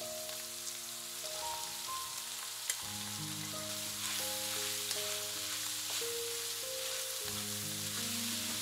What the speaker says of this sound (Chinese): 稍微翻炒一下，再放入胡萝卜丁和白萝卜丁。